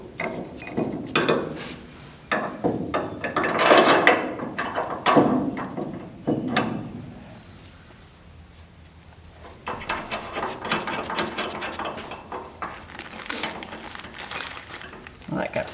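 A wrench working bolts on 1965-1972 Ford Mustang Prothane motor mounts: close bursts of metallic ratcheting clicks and clanks, a quiet pause midway, then steadier ratcheting resumes.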